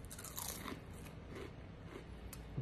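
Close, steady crunching and chewing of crisp microwaved pepperoni, with repeated crackly bites through the whole stretch.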